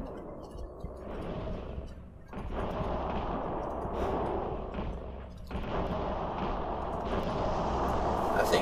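An electrical lightning gun fires in Call of Cthulhu: Dark Corners of the Earth, a continuous loud crackling, buzzing discharge that runs throughout with brief dips and surges, with faint game sounds mixed in.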